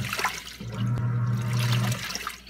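Giantex portable washing machine with a 1.34 cu ft drum, hooked up to a sink and filling with water, gives a steady rushing, low gurgling pour that swells in the middle and runs throughout, close and fairly loud.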